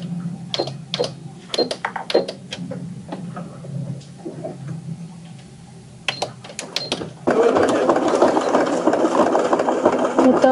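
A sewing machine stitching thick fabric layers for a boat bimini on a yacht in Martinique runs in short spurts and then settles into a longer, louder continuous run, close to the listener.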